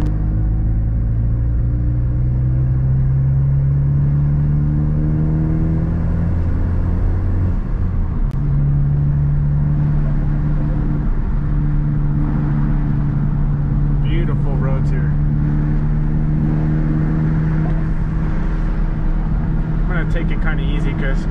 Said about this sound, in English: I'm gonna get back to driving